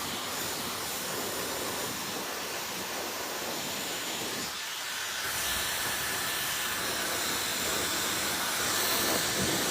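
A hair dryer blows a strong, steady hiss of airflow over curly hair, loud and close, with a brief shift in tone midway as it moves around the head.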